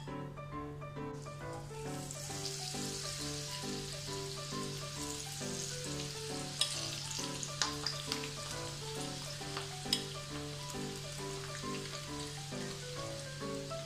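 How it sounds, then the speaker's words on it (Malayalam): Masala-coated sweet corn frying in hot oil in a kadai gives a steady, close sizzle with crackling pops throughout, over a constant low hum and no talk. "ഒരു കടായിൽ കുറച്ച് എണ്ണ ഒഴിച്ച് കൊടുത്തിട്ടുണ്ട്. നമുക്കിനി ഇത് ഫ്രൈ ചെയ്തെടുക്കാം."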